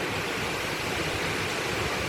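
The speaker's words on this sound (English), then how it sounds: "and the big waterfall there" Dense, steady broadband rush of the large waterfall at Cascata delle Marmore park in Italy, a constant roaring wash of falling water with no breaks, fairly loud and continuous throughout.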